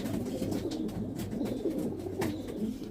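Pigeons kept for flying and catching stray birds coo in soft, throaty, repeated calls close by, layered over one another against a steady background hum, with no talk.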